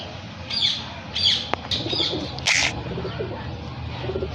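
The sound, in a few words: pigeon cooing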